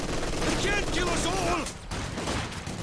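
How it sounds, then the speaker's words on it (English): Machine-gun fire in a Company of Heroes 2 2v2 tournament match on the Battle for Berlin map: a dense, steady crackle of gunfire and battle noise for about a second and a half, then a brief dip before the combat din resumes. "MG getting beautiful flanked from Scotch, but have to retreat because of 2 Grenadiers"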